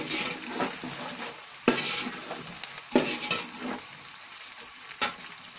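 Vegetable rice, a pulao, being fried and stirred in a pan, with a steady low sizzle broken by several sharper scraping stirs at irregular intervals, close and moderately loud, no voices.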